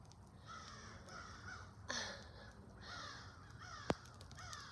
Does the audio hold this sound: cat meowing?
no